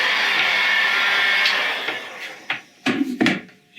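A heat gun blows steadily while softening a deformed PVC part, a continuous broadband whoosh that ends and gives way to a few brief clunks and handling knocks near the end.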